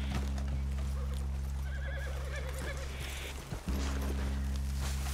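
Horses in the Red Dead Redemption 2 video game, with hooves clip-clopping at a walk and a couple of neighs over a steady low ambient hum, then a short break before the hum resumes.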